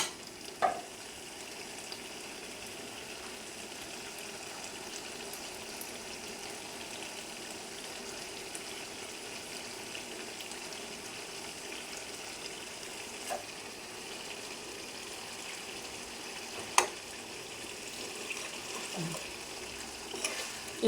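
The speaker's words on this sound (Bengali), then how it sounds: "একটুখানি মাংসটা সেদ্ধ হবে, ব্যাস তাহলেই হয়ে যাবে।" Chili chicken simmers and sizzles in a pan, giving a steady, even crackle that holds throughout with a few small clinks and taps of utensils and no talking.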